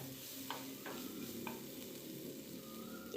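Onion, ginger paste, garlic paste and coriander powder sizzle in a pan as the spice base for a yogurt katla fish curry. A steady, close frying hiss runs throughout, with a few soft stirring scrapes.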